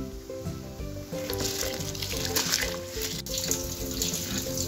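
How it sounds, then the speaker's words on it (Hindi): Rice poured into a pot of water already at a rolling boil while cooking chicken dum biryani, giving a continuous rushing, bubbling hiss with clattering over a steady background hum. "पानी हमारा उबल चुका है यहाँ पर, अभी इसमें चावल ऐड कर देंगे"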